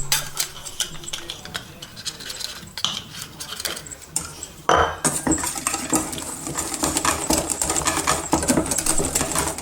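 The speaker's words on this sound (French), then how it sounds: "on va battre notre poudre, alors maïzena ou poudre à crème, 15 g avec nos 45 g d'œufs" Cornflour is whisked into eggs in a bowl while making a flan, giving quick rhythmic metallic clicks and scrapes that grow louder and busier halfway through.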